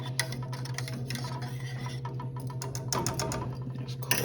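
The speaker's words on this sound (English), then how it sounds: "stir those mushrooms" Mushrooms stirred in a pan, with a spatula repeatedly scraping and tapping the metal in quick bursts over a steady low hum and soft sizzle.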